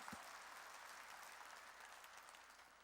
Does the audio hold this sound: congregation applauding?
yes